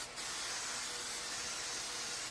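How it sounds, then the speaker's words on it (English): Hairspray sprayed from an aerosol can onto model trees, one continuous loud, close hiss lasting the whole clip. "I'm going to spray this with hairspray."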